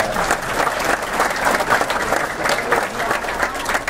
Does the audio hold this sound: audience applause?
yes